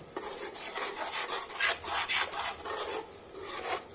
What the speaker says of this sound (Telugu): టమాటా ఉల్లిపాయ ప్యూరీని అంతా పోసేయాలండి. పోసేసి అంతా ఒకసారి కలుపుకోవాలి